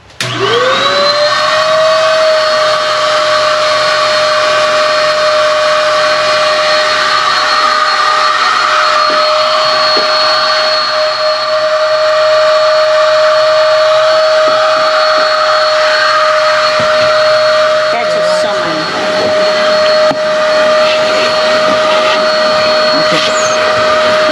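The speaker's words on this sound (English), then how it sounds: "Vacuums still amaze me." A vacuum cleaner runs continuously with a loud, steady whine while cleaning a car's driver's seat, close up and alone, with occasional faint knocks as the nozzle moves.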